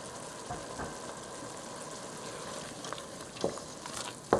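Chicken curry cooking in a pan, a soft low sizzle and bubbling with occasional scraping stirs that grow a little louder toward the end, fairly quiet and close with no voices.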